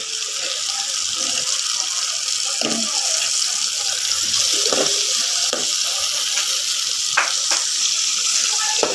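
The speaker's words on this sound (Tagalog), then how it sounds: "Gigisa ko ang kamatis." Tomatoes sautéing in a pan, a steady close sizzle throughout with faint clinks of stirring.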